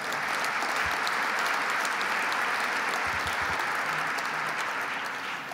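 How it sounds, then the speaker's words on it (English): Steady, dense audience applause for Bill Rudin, a Chairman Emeritus, at a CUNY TV event with Governor Andrew Cuomo and MTA chair Joseph Lhota. The clapping fills the hall evenly and holds for the whole stretch, with no talk over it. "Let's give Bill a round of applause."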